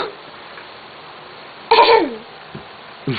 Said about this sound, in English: How do you sneeze?